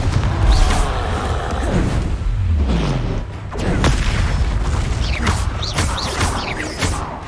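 Confringo spell blasts in the video game Hogwarts Legacy: several heavy booming explosions with crashing debris and sharp magical whooshes, loud and close, recurring irregularly.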